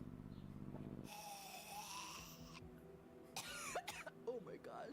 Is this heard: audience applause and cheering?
no